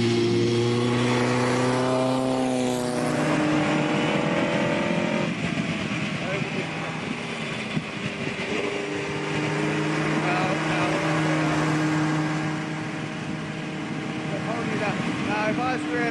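A 1959 Cooper Climax race car engine revs hard and close, its pitch climbing and falling through gear changes and surging again for a sustained stretch.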